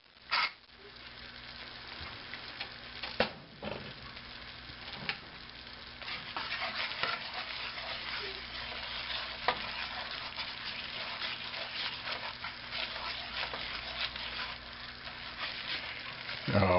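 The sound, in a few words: white gravy being stirred and cooked in pan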